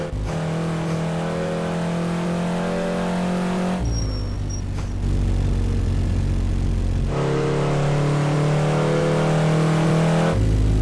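A first-generation Honda NSX engine in the driving game Driving School Classic revs and accelerates through gear changes, a loud, steady buzzing drone that drops briefly between shifts, with no talking.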